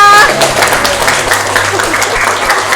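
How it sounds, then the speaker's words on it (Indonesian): Schoolchildren in a classroom clap their hands together as a class, a dense, fairly loud burst of applause with voices mixed in, following a teacher's brief words at the start. "Boleh tepuk tangan semuanya."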